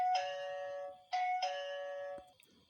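Doorbell chime of the 8028S camera smart door lock: a bright electronic ding-dong rung twice in close succession, each tone ringing clearly and then cut off, heard up close with nothing else around it.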